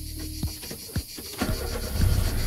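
Car engine starting, a few quick cranking pulses followed by a low rumble as the engine catches, heard close from inside the car.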